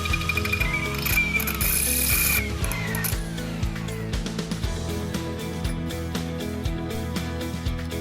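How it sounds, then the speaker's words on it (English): Power drill boring through a boron steel wear edge, a steady loud grinding whir with rattling, ratchety bursts and a higher squeal early on, running continuously with no talk. "This grade of boron is slightly more resistant, but still drills all the way through with moderate effort."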